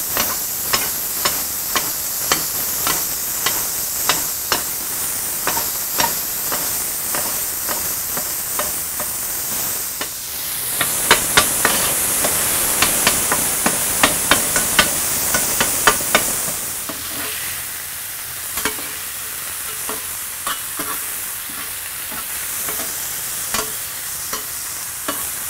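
Beef and onions sizzle on a flat-top griddle while a spatula chops them in rapid repeated metallic taps, the sizzle swelling louder midway and then settling, with no speech.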